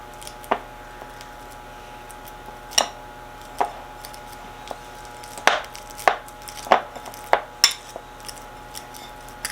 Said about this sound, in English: I'm going to take my piece of banana and mush it a little in the bowl. Press it down good.